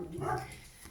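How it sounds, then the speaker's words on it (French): A single short, muffled dog bark, fairly faint and a little distant, lasting under a second. "c'est Lucky qui aboie."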